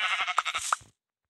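A goat in a video game lets out one short, close bleat in a few wavering pulses, then stops abruptly into silence.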